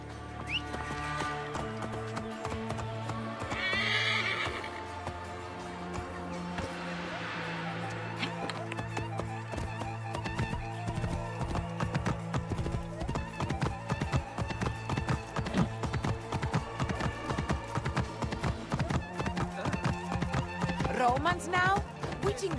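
A horse whinnies, then hooves clop in a steady run, growing louder and more rapid, in the video game Assassin's Creed Origins, with game music and ambience underneath.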